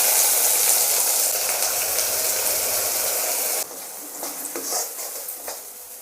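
Ground chutney paste added to hot tempering oil with curry leaves in a pan, giving a loud steady sizzle that drops abruptly partway, followed by quieter stirring and utensil scrapes.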